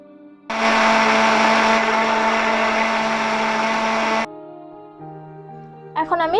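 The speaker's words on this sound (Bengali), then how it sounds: "এখন আমি সবগুলোকে ব্লেন্ডারের সাহায্যে ব্লেন্ড করে নিব।" An electric blender whirs loudly through pineapple and cucumber for several seconds, a steady high motor roar that cuts off abruptly, followed by faint clinks and a brief trailing noise.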